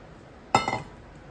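A single close, bright glass clink rings out once with a short ringing tail, as a glass of milk is picked up in a home kitchen while making mango kulfi; quiet room otherwise.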